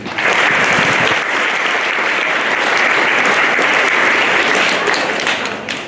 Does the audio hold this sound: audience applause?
yes